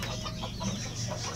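Pet chickens clucking softly in a backyard coop, a steady mix of short murmured clucks over a dense, continuous background of farm ambience.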